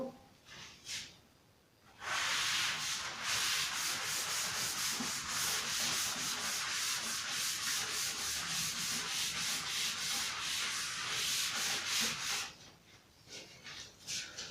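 A duster rubs writing off a board in a maths classroom, a steady, loud scrubbing of rapid back-and-forth strokes lasting about ten seconds, with softer scattered rubs before and after.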